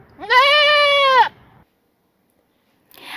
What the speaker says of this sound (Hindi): मिलिए आज की हमारी नई मेहमान से जिनका नाम है मिसेस बकरी जी